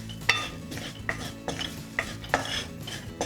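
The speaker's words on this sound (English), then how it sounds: "We'll give the masala a stir into the onions and roast them a little bit." Spoon stirring masala into roasting onions in a pan while cooking Pindi chole, a series of sharp scraping clinks at an uneven rhythm over a faint sizzle, close and fairly quiet, no voices.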